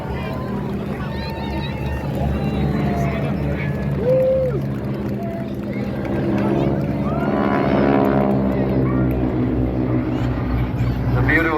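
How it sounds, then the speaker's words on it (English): Boeing Stearman biplanes flying a display at an air show in Rush, Ireland, their radial engines giving a continuous throaty drone that swells and fades as they pass, with a voice talking over it. "The beautiful sound of those engines on the Stearman aircraft"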